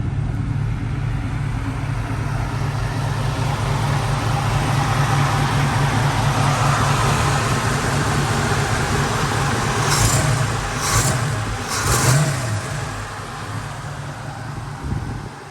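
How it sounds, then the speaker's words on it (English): A 1960s classic car with a stock 289 cam engine idles with a steady low rumble up close, then rises in a few brief revs near the end; no voices. "let me turn the car on for you guys right now so you guys can hear it"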